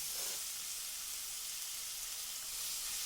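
Spiced masala and potatoes sizzling steadily in a pan while being stirred, a continuous bright frying hiss with little variation and no voices.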